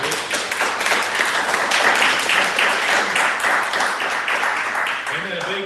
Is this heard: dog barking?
no